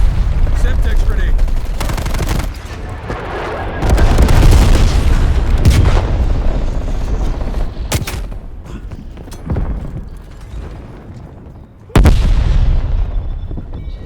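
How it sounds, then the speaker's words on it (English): A napalm strike in Call of Duty Black Ops Cold War during a Domination match brings a run of loud booming blasts and rumbling fire, with gunfire bursts and sharp cuts between explosions, and game voice lines mixed in. "Napalm strike inbound."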